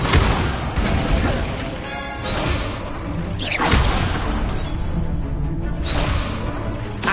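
Incendio fire spell cast repeatedly in Hogwarts Legacy on PS5, loud bursts of whooshing flame and crackling impacts that swell and fade several times over continuous game sound effects.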